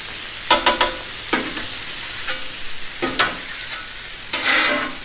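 Peppers and onions fry in a pan with sharp bursts of sizzling as they are stirred and scraped, several short crackling spurts spread across the clip, close and clear with no talking.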